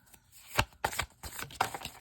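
Tarot deck being shuffled in a few quick riffling bursts, crisp papery flutters and taps with short gaps between them, close and fairly loud.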